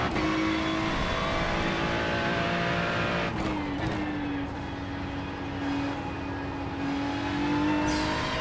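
A race car engine in the iRacing sim game revs and pulls hard on acceleration, a steady near engine tone that dips briefly around a hairpin before climbing again, alone without talk.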